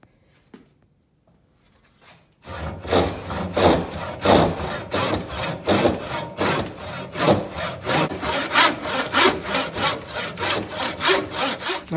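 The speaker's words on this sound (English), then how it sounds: "I might use the saw, that would probably be easier just to cut down the length." Hand saw cutting a wooden axe handle to length, starting after a quiet pause and then settling into loud, close, rhythmic back-and-forth rasping strokes that continue steadily to the end.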